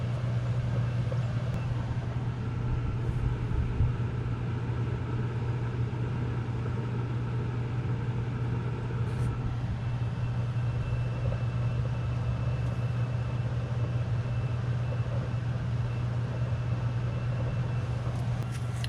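A home HVAC blower runs alone with a few electronics, making a steady, unbroken low drone with a faint higher whir, constant in level from start to finish.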